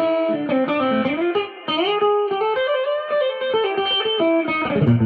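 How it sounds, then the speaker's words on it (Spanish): An electric guitar plays through both humbucker pickups into a heavily distorted amplifier, producing loud, sustained, saturated chords and bent notes that fill the whole stretch, with no voices. "la saturación de las pastillas hace que distorsione el amplificador"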